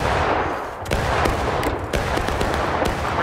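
Repeated musket volleys crackle in War of Rights at the Burnside Bridge fight, sharp shots popping at irregular intervals, some close and loud, others distant, over a constant roar of battle.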